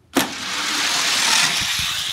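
Two Hot Wheels die-cast toy cars, Nerve Hammer and Trek Ripper, rushing down a racing track after a sharp release clack, followed by a steady, loud rolling whir that holds for about two seconds.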